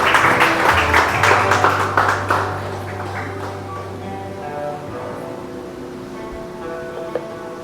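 Church congregation applauding during a worship service, a dense burst of clapping for about three seconds that fades out beneath a sustained organ or keyboard tone.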